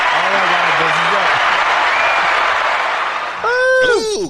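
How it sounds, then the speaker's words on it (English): Applause and cheering from a bar crowd, a continuous wash of clapping with whoops and voices rising over it near the end. "Round of applause for Marcus."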